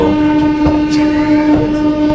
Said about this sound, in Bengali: সকাল সাড়ে ছটা আমাদের ট্রেন ছাড়ছে এখন আদ্রা থেকে পরবর্তী স্টেশন পুরুলিয়া